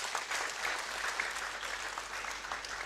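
An audience at a university awards ceremony applauds in a steady, even round of clapping that holds for a few seconds without any voices on top.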